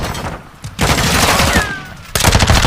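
Submachine gun fire in Modern Warfare 2, heard as loud, dense automatic bursts with a short gap, then firing picks up again at close range without any speech.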